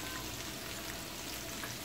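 Chopped garlic frying in butter in a pan, a steady, close, even sizzle with no talk over it.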